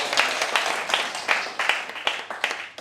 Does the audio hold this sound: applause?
yes